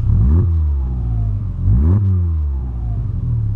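A 2008 Volkswagen Polo sedan engine starts and revs up close, with two sharp rising revs that fall back to a rumbling idle between them.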